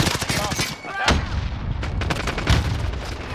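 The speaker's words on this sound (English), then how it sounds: "Throwing grenade!" Video game combat with rapid gunfire bursts and a heavy grenade blast, loud and close, punctuated by sharp cracks over a constant rumble of battle.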